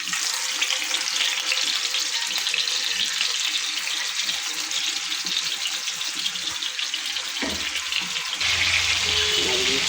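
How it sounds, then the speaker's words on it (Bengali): Silver fish coated in turmeric and salt frying in oil in a frying pan, giving a loud, steady hiss and crackle that runs unbroken throughout, with a slight change in texture near the end. "এখন মাছগুলো আমরা ফ্রাই প্যানে তেল দিয়ে দিয়েছি। এখন মাছগুলো আমরা ফ্রাই করে নেব।"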